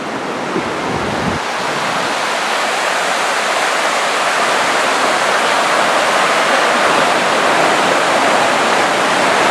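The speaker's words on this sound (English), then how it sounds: "You can hear the water rushing by." Steady roar of river water rushing past a Boundary Waters campsite during a canoe trip, a dense continuous broadband wash with no pauses, close and loud throughout.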